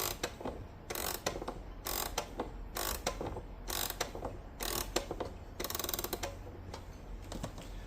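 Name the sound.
winding an E. Ingraham parlor clock, ratchet clicking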